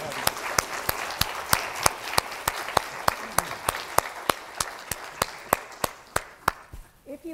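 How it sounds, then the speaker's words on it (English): One person claps alone, slow and evenly spaced, for the closing round after a caregiver webinar talk; the claps are sharp and close, with faint murmurs underneath. "one more round of applause"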